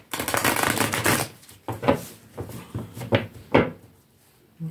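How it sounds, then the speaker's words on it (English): Tarot cards shuffled by hand: a dense riffling burst for the first second or so, then several separate crisp card slaps and flicks, close and fairly loud with no talking. "Give these another shuffle."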